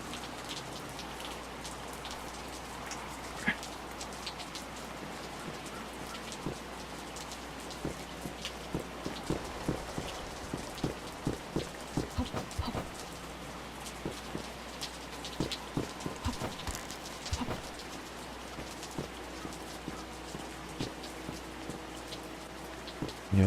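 Steady rain falls in the Sovietpunk video game Peripeteia, a continuous wash of patter with scattered sharper drops spattering on hard surfaces, fairly quiet and even throughout, with no voices.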